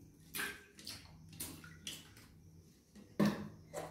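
Bath water runs and splashes into a bathtub in a quiet indoor bathroom, with soft irregular trickles, drips and a brief louder splash near the end.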